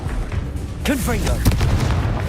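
A Confringo spell explosion in Hogwarts Legacy, a short booming blast with a voice calling out over it, close and loud.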